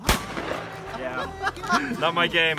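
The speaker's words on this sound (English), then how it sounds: "It's fun to fire a shotgun." One sharp shotgun blast cracks out at the start during target shooting on a men's camping trip, followed by people talking nearby.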